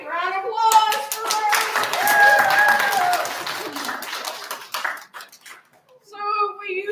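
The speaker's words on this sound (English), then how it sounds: "All right, round of applause for" Applause breaks out at a school spelling bee, a room of hands clapping steadily for several seconds, with children's voices and a brief tone over it before it fades and talk resumes.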